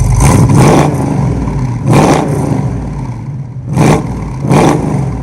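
A 1970 Dodge Challenger R/T convertible with the Magnum 440 big-block V8 idles loudly up close and is blipped repeatedly, four sharp throttle surges roaring and dropping back to a heavy lumpy rumble.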